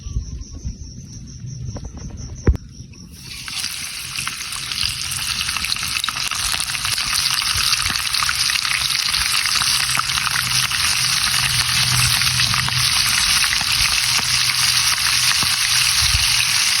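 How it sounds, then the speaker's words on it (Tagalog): Breaded chicken hearts drop into hot oil and deep-fry: after a quiet start and a single knock, a loud bubbling sizzle surges in and holds steady to the end, with no voices. "Matapos natin to breadings, o yan, ready to fry na yan."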